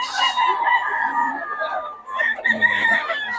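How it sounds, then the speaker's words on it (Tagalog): Roosters belonging to Boss Jun in Bocaue crow in drawn-out, wavering calls with clucking fowl around them, fairly close and loud, two overlapping crows filling the short stretch. "Saka mga manok ni Boss Jun."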